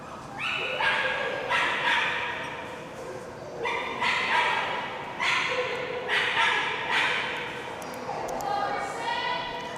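A Golden Retriever dock diving dog barks repeatedly at an event, with loud bursts in a steady rhythm and a continuous noisy background beneath them.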